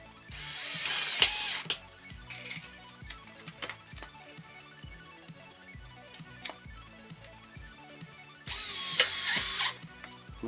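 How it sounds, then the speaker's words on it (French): A power driver sinks small self-drilling screws into metal wall fixings for plasterboard, close by, with two loud bursts of whirring drilling at the start and end and intermittent clicks and handling knocks between them. "je viens les fixer comme ça, ici, et je les visse avec une petite vis auto-perforante."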